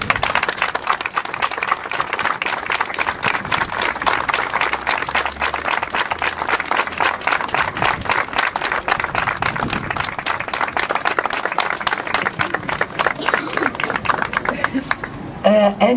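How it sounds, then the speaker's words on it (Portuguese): Sustained applause from a crowd at a community marcha event, many hands clapping loudly and continuously for the full length, with a few voices mixed in underneath. "eu gostava de pedir uma grande salva de palmas do fundo do nosso coração"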